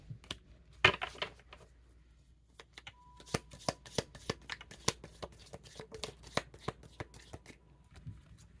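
Tarot cards being shuffled by hand, a quiet close series of crisp riffling snaps and taps, irregular at first then coming in quick rhythmic bursts.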